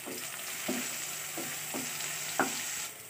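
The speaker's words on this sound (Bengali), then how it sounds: "পেঁয়াজটাকে তেলের মধ্যে হালকা নাড়াচাড়া করে নিয়েছি।" Onion stirred and lightly fried in a little oil for a broccoli dish: a steady sizzle runs throughout, broken by four distinct spatula scrapes and taps, the last one sharpest, with no voices.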